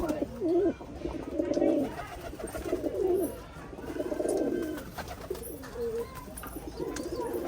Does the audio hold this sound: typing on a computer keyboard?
no